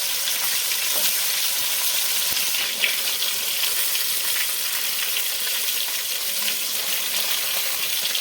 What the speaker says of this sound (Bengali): এরকম করে আমি প্রত্যেকটা মাছ আমি ভেজে নিচ্ছি